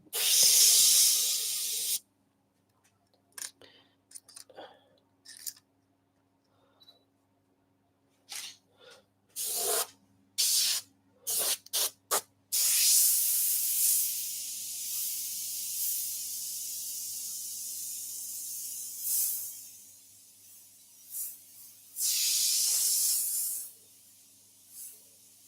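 A live airbrush demo with a slightly bent needle: bursts of airbrush spray hiss start and stop repeatedly, some short and sputtering and some sustained for several seconds, close and fairly loud over a quiet low hum.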